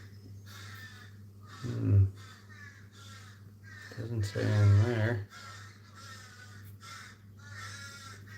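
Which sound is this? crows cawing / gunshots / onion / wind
crows cawing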